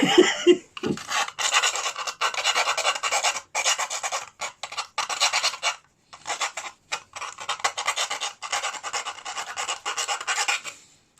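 Old rusty hand rasp filing, likely at a tin for making char cloth; rhythmic scraping strokes roughly two per second in close bursts, with a brief pause midway before the rasping resumes.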